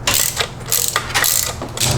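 A ratchet with a long extension and a 12-point spark plug socket loosens a spark plug on a BMW E90, giving repeated clicking bursts of ratcheting, close and fairly loud, with no talking.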